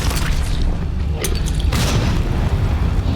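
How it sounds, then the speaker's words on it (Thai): A game explosion in a Resident Evil-style fight between Leon and a transformed William, a deep, continuous booming rumble with a sharper burst partway through and no voices. "ตามด้วยระเบิด"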